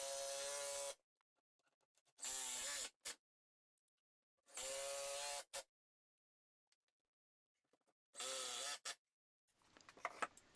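Screws being driven to fix a heavy bracket to a workshop wall: four loud, close whirring bursts, each about a second long, separated by quiet pauses, with a few fainter clicks at the end.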